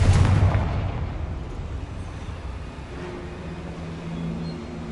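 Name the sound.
Confringo explosion spell cast in Hogwarts Legacy video game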